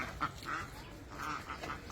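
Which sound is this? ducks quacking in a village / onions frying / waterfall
ducks quacking in a village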